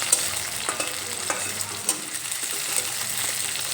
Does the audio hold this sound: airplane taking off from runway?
no